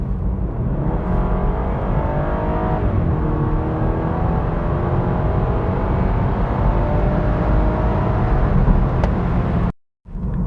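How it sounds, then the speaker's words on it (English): A BMW 220i F22 coupé with a 2-liter four-cylinder engine in Sport Plus mode revs and pulls away, its exhaust note rising and falling with gear changes, loud and close before cutting off abruptly near the end. "Listen to the exhaust note. This car, this 2-liter 4-cylinder engine really has a little crackle on it."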